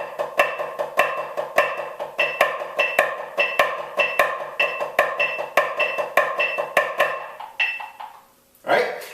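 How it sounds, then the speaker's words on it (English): Flam accent grid drum rudiment played on a snare or practice surface, with rapid, evenly spaced sharp strokes in accented groupings, loud and close, stopping before a brief louder hit at the end. "So the first grouping of the Flam accent grid sounds like this."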